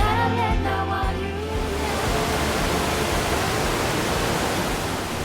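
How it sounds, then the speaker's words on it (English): Loud, continuous roar of water pouring over the weir at Melksham on the river between Lacock and Bradford on Avon, steady throughout after a brief fade-in from music. "The weir at Melksham is the first of 3 weirs between Lacock and Bradford on Avon"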